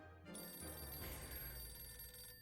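In the video game 60 Seconds Reatomized, a telephone rings inside the survival shelter, a steady bright electronic ringing that holds for about two seconds, moderately quiet, with no talking over it.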